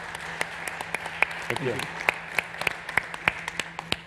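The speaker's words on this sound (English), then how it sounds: "a big applause, please" An audience at a startup conference stage applauds the speakers with scattered, fairly close individual claps over a steady hum, while a voice speaks briefly.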